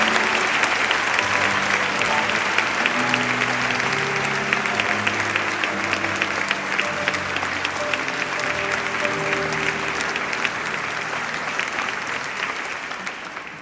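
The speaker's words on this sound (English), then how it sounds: "And now, an extremely big applause for all of them" A large audience claps continuously for the whole stretch at an awards ceremony in Bucharest, a dense steady wash of applause that tapers slightly at the end.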